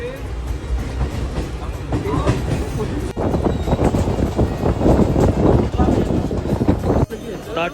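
Inside a moving passenger train bound for Thane, a loud steady rumble and rattle of the carriage runs throughout, with people talking over it.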